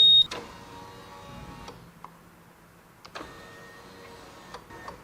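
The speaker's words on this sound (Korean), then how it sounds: "이 윈드 스크린을 조작을 한다고 해서 제가 일단 조작을 보여드릴게요" An electric windscreen on a Honda scooter motors up and down in two separate whirring runs of about a second and a half each, with faint clicks between them in a quiet setting.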